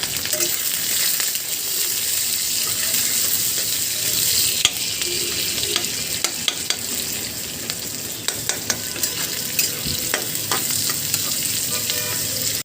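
Onion and chili sizzle steadily in hot oil tempered with black cumin, with a continuous crackling fry broken by frequent scraping clicks of stirring, close and alone without talk.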